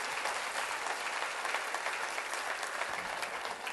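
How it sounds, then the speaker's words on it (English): Steady audience applause after a tribute at a gathering, dense and even throughout, moderately loud and without voices. "I really want to give her a round of applause"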